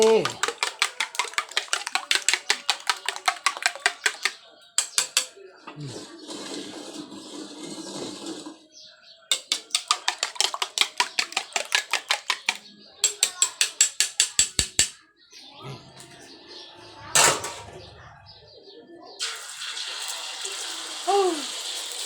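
Eggs frying in a pan for an omelette, with bursts of sizzling hiss between runs of quick rhythmic clattering, close and moderately loud, as someone talks now and then.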